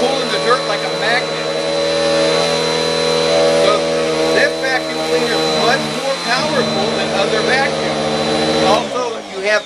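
A Simplicity Riccar heavy-duty vacuum cleaner runs on carpet with a loud, steady motor whine and roar throughout, while someone talks over it close to the machine.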